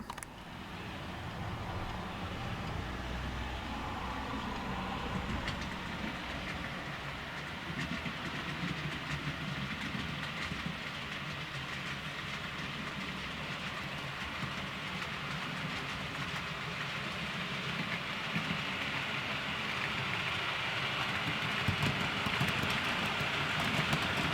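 A model train rolls through a railway layout with a continuous rumble and rail clatter that holds steady and grows slightly fuller near the end, heard close and alone without any speech.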